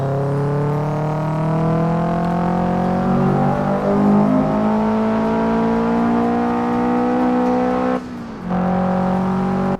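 A car engine in the racing game Assetto Corsa, built from crossfaded sound loops, hums loudly and steadily as it accelerates, with its pitch climbing gradually before a brief dip near the end.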